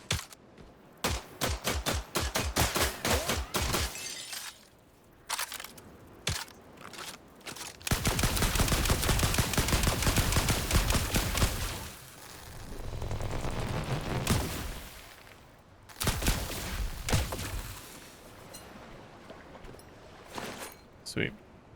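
Rapid bursts of gunfire in the survival driving game The Last Car: a fast run of sharp shots, a dense stretch of sustained firing, then scattered single cracks and short volleys, loud and close.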